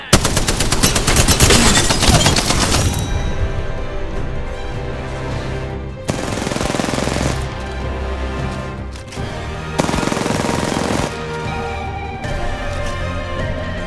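Heavy video-game gunfire in an Apex Legends match, dense bursts of automatic shots rattling loud and close, with thick volleys at the start and again in the middle and near the end.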